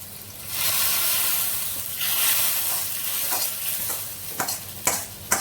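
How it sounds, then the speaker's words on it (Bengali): Oil heats in a pan with a bright, loud hiss of sizzling, then a few sharp clattering stir strokes toward the end. "তেলটা গরম হতে থাকে"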